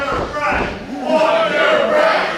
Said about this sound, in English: Crawford hearing the taunts of this crowd here at the White Eagle